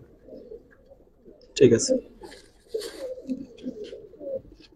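Giribaz pigeons of the Palla line coo while being held in the hand, a short throaty burst of cooing that rises above a man's conversational speech, which continues before and after it.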